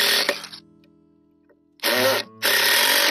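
A power drill drives deck screws into a log for a log cabin repair, with a brief whirring burst, a pause, then two longer bursts of the motor under load, loud and close.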